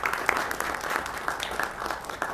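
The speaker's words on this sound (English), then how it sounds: "I think they do deserve a round of applause" Audience applause for the city clerks at a city council meeting, a steady wash of clapping from a room of people with a few louder claps close by.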